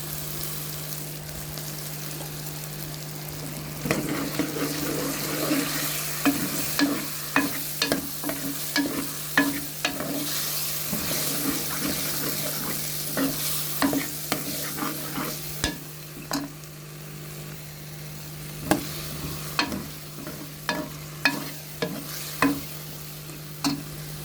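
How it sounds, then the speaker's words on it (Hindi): Potato-pea curry with a little yogurt frying in a pan, a steady sizzle under repeated scraping stirs of a spoon against the metal, close and fairly loud, with no talking. "थोड़ी देर हम इसे भूनेंगे अच्छी तरह से"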